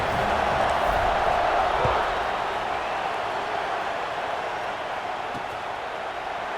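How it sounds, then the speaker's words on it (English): Football stadium crowd at a college game between Tennessee and Ole Miss, buzzing after a touchdown: a broad, steady murmur of many voices and a diffuse roar, holding at an even level throughout. "this crowd is buzzing after that last score"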